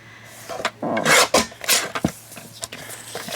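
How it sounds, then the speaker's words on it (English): Cream colored cardstock being cut down to size at a craft table, giving close, soft rasping paper-cutting strokes in short bursts with pauses between them. "I'm going to use this cream colored cardstock and just cut it down to A4 size"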